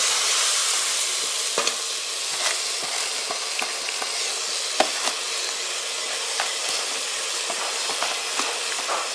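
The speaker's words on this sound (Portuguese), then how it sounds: "Aqui em seguida eu já vou colocar a água que tava fervendo ali." Boiling water hits a pan of brown rice and sets off a loud, steady sizzle and hiss with scattered crackles and pops, close up and without any talking.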